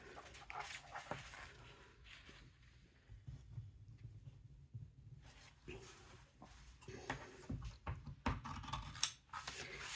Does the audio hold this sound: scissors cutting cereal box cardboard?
yes